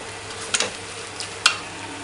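Rice in a pan for artichoke risotto with broth being added, a soft sizzle with a few brief scraping stirs and clicks of the spoon.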